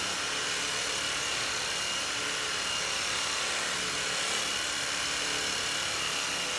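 A percussion massage gun runs continuously while moved over muscle, a steady, even buzzing drone held at constant loudness throughout with no pauses.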